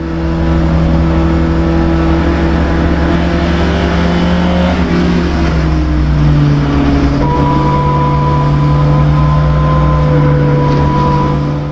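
Racing cars at Lime Rock Park, including a pair of Alfa GT racers and a NASCAR Oldsmobile, roaring with loud sustained engine drone and shifting pitch heard from onboard, no talk.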